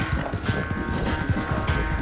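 Horse hooves clip-clop in Red Dead Redemption 2, a steady, close rhythmic patter of hoofbeats at a brisk pace, with no speech.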